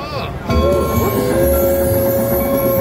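A train sound from the Midnight Express feature of a high-limit slot machine, with a loud, sustained whistle-like tone and rumble that kicks in suddenly and holds steady.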